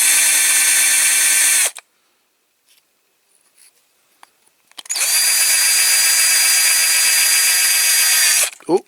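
A small power drill bores into a Dinky Toys MG Midget die-cast model in two loud, high whining runs, separated by a quiet pause with faint handling clicks.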